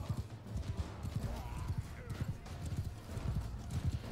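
Horse hooves clip-clop in a fast galloping rhythm with occasional neighing in the Mount and Blade II Bannerlord video game, steady and moderately close amid battle noise, while a voice talks over it.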